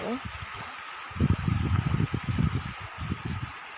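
A stream flowing through a lowland between hills gurgles steadily in the background while someone talks over it in Thai.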